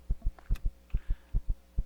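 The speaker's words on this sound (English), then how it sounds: "you hear the little heartbeat thing?" Low-stamina heartbeat effect in a video game: a deep, thumping double-beat pulse repeating steadily, about four lub-dub pairs in under two seconds, up front and clear with no talking over it.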